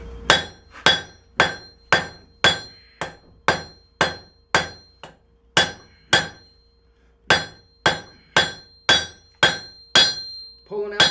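A hammer forges bevels on an old wrench being shaped into a karambit, giving repeated sharp ringing blows on the anvil in a steady rhythm, close and loud, with one short pause midway.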